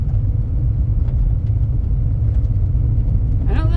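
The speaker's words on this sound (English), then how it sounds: "Yeah, I'm driving down gravel" A 2013 Buick Encore rolls over a gravel road, giving a loud, continuous low rumble of tyres and road noise from inside the cabin, with a brief voice at the very end.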